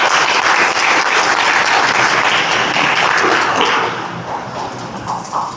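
An audience at an architects' association lecture applauds a professor after the talk, a dense, sustained wash of clapping that stays loud, then thins slightly toward the end.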